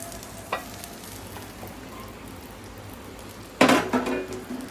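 Chicken pieces fry in a pan with a faint, steady sizzle, broken by a brief utensil tap and a louder burst of clattering and spattering near the end.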